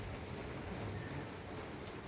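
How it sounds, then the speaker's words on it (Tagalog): Steady rain falls in Singapore, a faint, even wash of dense drops that stays constant throughout with no voices. "ang panahon ngayon dito sa Singapore ay umuulan muna"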